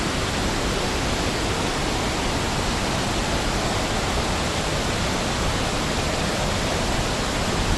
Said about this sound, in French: Donc là on va avoir une meilleure vue de la cascade.